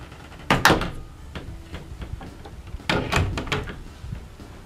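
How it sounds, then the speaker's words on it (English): Hotel room closet doors slide and bang shut in two bursts of knocks and thuds, close and fairly loud, with room noise between them. "Close these doors."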